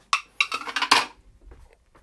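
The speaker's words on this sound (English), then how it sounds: "So let's remove the lids" Metal pot lids lifted off two pots while making cherry syrup for amarena ice cream: a quick series of bright clanks and clatters, close and fairly loud, then a few soft settling knocks.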